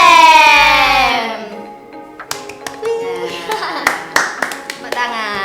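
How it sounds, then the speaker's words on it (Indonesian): Audience clapping hands at a school podcast, a handful of sharp, scattered claps after a sustained sung or called-out tone, fairly close and uneven in rhythm. "Tepuk tangan."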